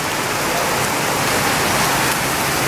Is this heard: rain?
yes